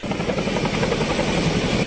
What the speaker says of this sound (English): Rescuers now using helicopters to reach those areas.